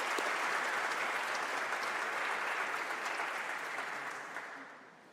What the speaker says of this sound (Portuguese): Uma salva de palmas para a Dona Eliana.